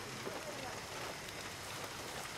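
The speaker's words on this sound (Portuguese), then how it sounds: "Chuva." Rain in Far Cry 6 falls as a continuous dense hiss of drops on surfaces, steady and fairly loud, with no clear voices over it.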